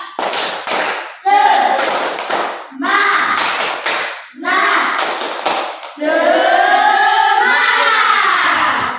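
A class of children performs a rhythmic clapping chant, with claps and taps in patterned bursts and voices chanting loudly and close, ending in a long sustained shout.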